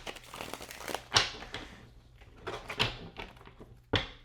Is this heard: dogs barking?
no